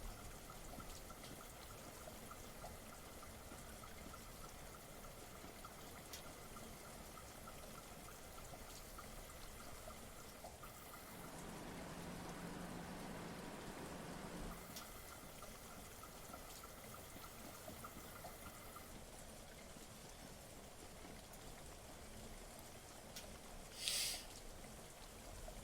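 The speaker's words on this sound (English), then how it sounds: "It is raining in the game." Steady rain falls in Train Simulator 2019 on a Class 375 train running from London Victoria, a soft continuous wash with a brief louder swell in the middle, heard alone at a low level.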